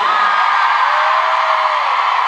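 A large concert crowd at a show cheers, whoops and screams in one loud, continuous roar that holds steady throughout.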